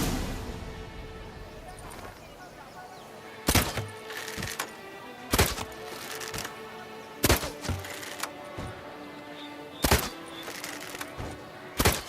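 Arrows strike targets during shooting training for the knights' tournament in Toussaint in The Witcher 3, a series of sharp, loud thunks spaced a second or two apart over a quiet ambient bed.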